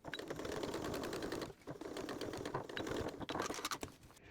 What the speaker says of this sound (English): The final step is just to stitch that opening closed.